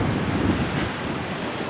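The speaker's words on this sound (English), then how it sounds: "But it's so windy, if you're wearing a hat, it's got to be pretty tight" Strong wind roars at a beach, a dense steady rumble buffeting the microphone over the brief span, loud and close, with no voices.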